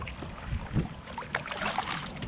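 Paddle strokes from an 11-foot homemade foam-and-fabric kayak on water at a park, soft splashes and drips with light wind noise, close by and without speech.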